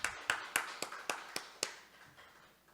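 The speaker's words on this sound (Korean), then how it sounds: "우리 하나님께 영광의 박수를 드리겠습니다." A church congregation claps in worship, giving about eight separate, fairly sharp hand claps in an uneven rhythm that thin out and fade over a couple of seconds, with no voices.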